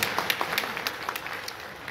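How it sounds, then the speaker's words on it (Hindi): Scattered crowd clapping at a political meeting, a moderate patter of individual claps rather than a roaring ovation, with faint voices underneath. "जोरदार ताली हो"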